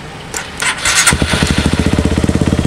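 A motorcycle fitted with a Juken 5 remote ECU cranks briefly with the starter, catches, and settles into a close, rhythmic idle pulsing with evenly spaced beats, loud and alone.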